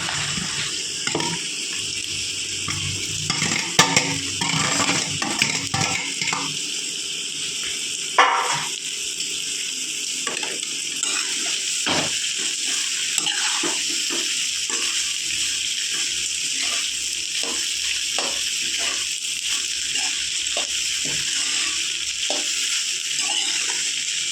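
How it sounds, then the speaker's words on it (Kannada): Cooled cooked rice is stirred into a sizzling tempering in a pan for a quick breakfast dish. A steady frying hiss carries throughout, with repeated close spoon scrapes against the pan. "ಆರಾಕಿಟ್ಟಿರೋ ರೈಸ್ನ ಹಾಕಿ ಕಲಿಸ್ಕೊಂಡ್ಬಿಡ್ರಿ"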